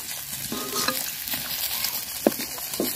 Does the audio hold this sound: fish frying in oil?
yes